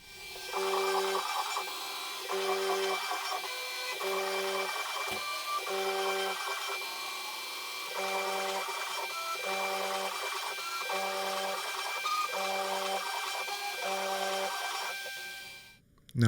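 A CNC machine cutting an LED guitar fretboard, a steady machining whine with evenly repeating pulses as the spindle works through a second pass at 0.2 oversize. The cut runs continuously and close, ending with a sharp burst.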